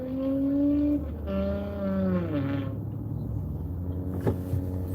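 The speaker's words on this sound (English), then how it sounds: "that's the worst sounding Acura Legend I've ever heard" A rough, loud-sounding Acura Legend drives past, its engine note rising and falling as it goes by, with a sharp rasp near the end.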